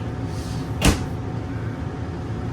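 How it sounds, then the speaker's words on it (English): A door inside a 2019 Forest River Flagstaff 27BHWS travel trailer shut with one sharp, close thump against steady background hum. "I'll go ahead and shut the door real quick."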